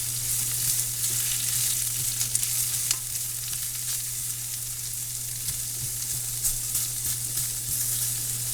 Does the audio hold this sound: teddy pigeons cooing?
no